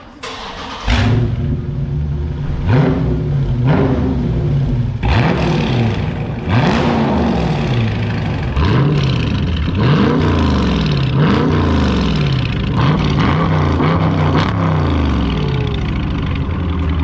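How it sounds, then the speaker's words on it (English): A Dodge Charger 392 Scat Pack engine with a mid muffler delete revs hard again and again through a loud exhaust, each rising roar falling back before the next, with a raspy, droning tone throughout. "the mid muffler delete or exhaust system"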